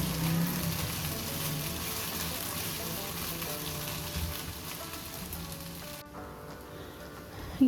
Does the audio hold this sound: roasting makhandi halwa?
yes